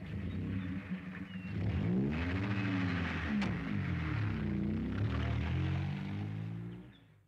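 A car drives steadily with a loud, continuous engine rumble that rises and falls as it revs, filling the whole stretch and easing off at the end.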